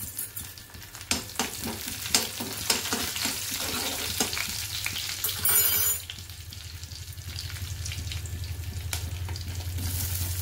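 Cumin seeds and curry leaves sizzle in a spoonful of hot oil in a kadai, a steady close crackle with scattered pops and a louder burst near the middle before settling into a continuous fry.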